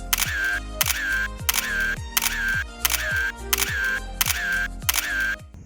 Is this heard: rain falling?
no